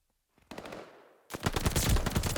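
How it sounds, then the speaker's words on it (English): Gunfire in a competitive shooter video game match: a short burst of rapid shots, a brief pause, then a louder, denser stretch of automatic fire, close and punchy. "Oh, nice shots there from Unknown, securing that first map 250 to 110"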